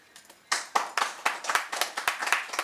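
Audience applause at a Nepali Gai Jatra comedy stage show, quiet at first, then a burst of several people clapping in an uneven rhythm that keeps going for about two seconds, fairly close and steady.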